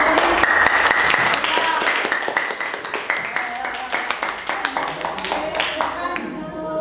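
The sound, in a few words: applause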